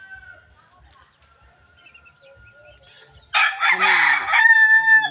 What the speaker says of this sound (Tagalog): Lagi may mga manok diri on.